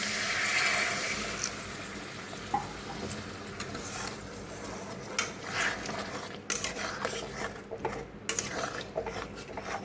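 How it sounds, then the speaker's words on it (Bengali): Hot water poured into fried masala in a pan for a fish curry, a sizzling, bubbling rush with clattering utensil and pan knocks scattered over it, close and fairly loud. "মশলা কষানো হয়ে গেছে, এখন গরম জল দিয়ে দিচ্ছি।"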